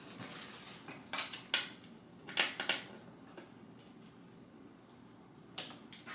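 Screws tightened into a desk lever during work-from-home desk assembly, giving a handful of faint, scattered clicks and short scrapes over a quiet background.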